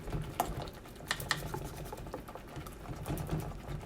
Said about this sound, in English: Take your whisk side to side with that swivel that's around.